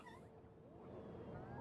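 A cat gives a short, faint meow with a rising and falling pitch, heard close by over low background noise.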